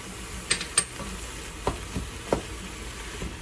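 Ground beef and spicy sausage fry in a pan, giving a soft, steady sizzle with a few sharp clicks and scrapes of stirring near the start and middle.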